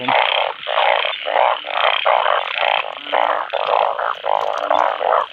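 A chorus of narrow-mouthed frogs calling after the year's first rain, loud and close, a rhythmic series of buzzy croaks in overlapping pulses with no talking.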